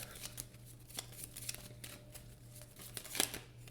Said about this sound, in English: So let's shuffle everything in.